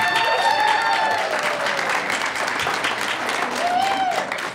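A crowd at a farmers market game-show event applauds in a sustained, full wash of clapping, with some voices and a few cheers mixed in.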